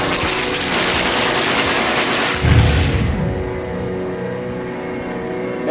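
Machine gun fire in a WW2 war movie battle scene rattles in rapid continuous bursts, loud and close, with a heavier boom in the middle and a lingering mechanical roar afterward.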